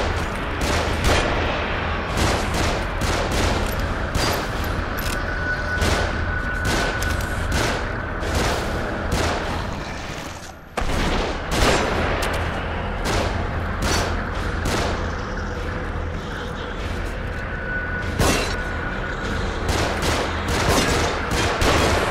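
Gunfire from above in the video game The Evil Within, a dense, continuous barrage of rapid shots and booms with a brief pause midway, steady and loud throughout over a rumbling background.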